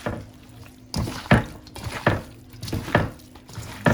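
A spoon stirs chopped cilantro, parsley, onions, garlic and ghost pepper in a bowl, giving a string of rhythmic scraping clinks roughly every half second, close and moderately loud.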